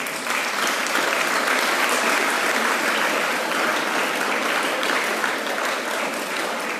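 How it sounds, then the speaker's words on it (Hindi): Schoolchildren at a Harela tree-planting event at Doon World School on Raipur Road, Dehradun, clap together, a loud, dense, sustained round of applause that fills the whole stretch without pause. "चलो ताली बजा दो अपने लिए।"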